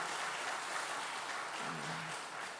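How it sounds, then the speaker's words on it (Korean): A church congregation claps for the kitchen volunteers during an afternoon worship service, a soft, steady patter of hands spread through the room that holds for a few seconds, with a faint low tone partway through. "우리 밥하시는 분들 수고 많은 우리 박수 한번 쳐줍시다"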